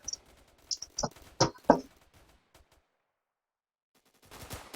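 Gunfire in the Roblox shooter Phantom Forces: a few sharp, close shots in a quick cluster, then sudden silence before a burst of louder noise returns near the end.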